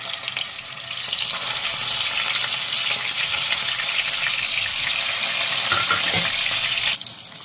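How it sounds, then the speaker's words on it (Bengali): Pieces of rohu fish, rubbed with spices but no turmeric, sizzle in hot oil. The loud, steady hiss starts about a second in, keeps up close and even, then eases off at the end. "আস্তে আস্তে তেল গরম হয়ে গেছে, মাছ ভাজাগুলো ছেড়ে দিলাম"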